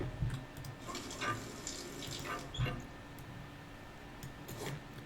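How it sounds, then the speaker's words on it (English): Running shower water in the space survival game Stationeers, a steady spray with a few faint clicks and drips over it. "Nice little quick shower."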